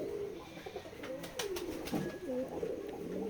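Pigeons cooing at a pigeon farm, with several low, rolling coos overlapping up close, a few light clicks and flutters, and no talking.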